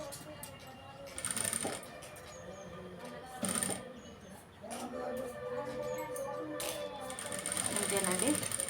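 A sewing machine stitches piping onto a blouse in short bursts of rapid mechanical whirring and clatter, separated by pauses and ending in a longer run, with faint speech-like sounds at times.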